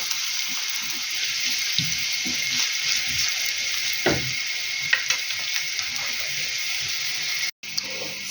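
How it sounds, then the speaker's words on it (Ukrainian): Onion sizzling in about 50 to 70 ml of hot oil in a pan, a steady loud frying hiss throughout with occasional crackles and stirring clatter, close by, no talk. "І засипаю сюди цибулю, хай обсмажиться трошки цибуля."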